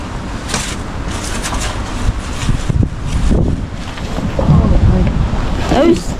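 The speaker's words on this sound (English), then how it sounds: "The wind's blowing 100 miles an hour." Strong wind blusters past a workspace sheltered by skateboard ramps, loud rushing gusts buffeting the microphone while people talk over it.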